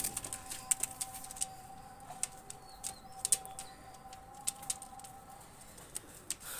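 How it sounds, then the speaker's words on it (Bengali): Two pigeons released into the air, their wings giving quick bursts of flapping and clapping scattered across the clip, with a faint chirp in the background and no talk. "কবুতর দুটো আমি ছেড়ে দেখাচ্ছি"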